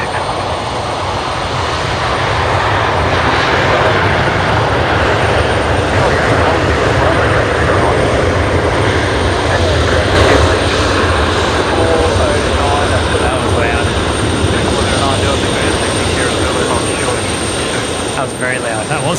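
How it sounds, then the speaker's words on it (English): A Velocity airliner arriving from Melbourne touches down on runway 19 at Brisbane Airport, producing a loud, sustained broadband engine roar that holds steady throughout without fading. "Matt, you've got Velocity 341 just touching down there, runway 19"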